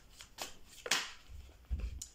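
Oracle cards being shuffled for a full-moon reading, a few quick papery riffles and soft slaps up close, with low thumps near the end and no talk.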